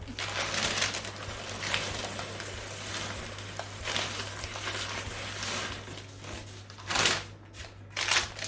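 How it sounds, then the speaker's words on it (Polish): Dried beans are poured onto baking paper in a tart tin as pie weights, giving a long, close, hissing patter of small hard pieces, followed by a few sharper rattling bursts near the end. "I wysypuję na to fasolę, żeby obciążyć ciasto."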